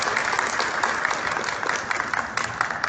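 Sustained audience applause at a book launch event, a dense steady wash of many hands clapping with no pauses, fairly loud and even throughout.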